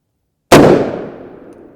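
One loud, sharp rifle report from a short-barrel 7.62x51mm .308 Win firing a 167gr JHP round into ballistic gel, with a quick decaying echo and nothing else around it.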